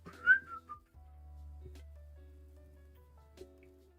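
A person whistles a few short, faint rising notes at the start, leaving a low steady hum behind.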